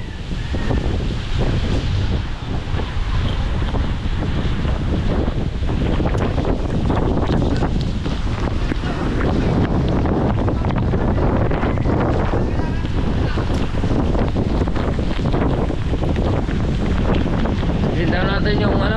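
Strong typhoon wind roars without a break, buffeting the microphone hard, with faint voices now and then under the gusts.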